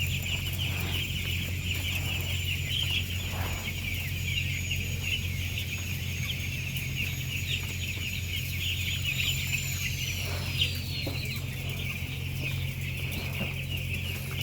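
Chickens in a rack-style battery coop cluck and call faintly amid a constant mechanical hum and buzzing drone that dominates the background.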